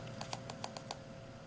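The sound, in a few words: clicking the firing button of an Innokin Z Biip vape three times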